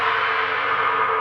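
An unriveted Wuhan China cymbal turned upside down gives a dark, gong-like sustained wash, loud and close, ringing steadily without decay over its short span.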